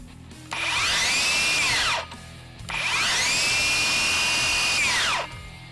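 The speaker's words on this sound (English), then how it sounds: "Now you probably already heard it, but that blade stops extremely quick." A RIDGID Octane circular saw spins up twice, each time to a loud, close, high whine lasting a second or two, and the blade winds down and stops abruptly after each run.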